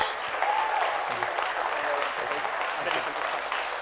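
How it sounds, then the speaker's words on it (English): An audience at a sommelier competition final applauds steadily, a dense wash of clapping that carries on evenly from start to finish, with a voice briefly heard beneath it. "A big hand of applause for Rasmus."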